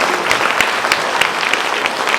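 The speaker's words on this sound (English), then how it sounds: "Please give them a big round of applause." Students and teachers at a school assembly clap loudly, an even, continuous wash of applause with sharp individual claps standing out throughout.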